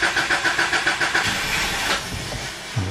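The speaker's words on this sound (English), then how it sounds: "So now you just want to try to start your car." A Subaru engine cranks with its fuel pump fuse removed, the starter churning in a rapid rhythmic pulse for about two seconds before trailing off, close and moderately loud.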